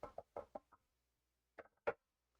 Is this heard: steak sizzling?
no